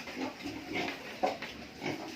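A sow, a mother pig, grunts in a pen with low, repeated snorting grunts at close range, spaced unevenly over a steady background.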